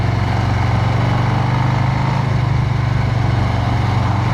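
A Harley-Davidson Street Bob 114 motorcycle's exhaust rumbles in a steady, loud low drone, holding an even note the whole time with no voices.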